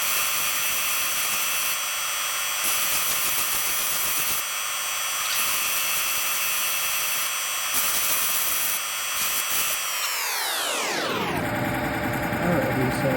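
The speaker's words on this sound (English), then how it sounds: "we're just going to keep grinding that a little bit longer" A Highland Park 8-inch cabbing machine grinds a rock cabochon, a loud steady whining drone with a rhythmic scraping texture that winds down in pitch as the wheel slows and stops near the end.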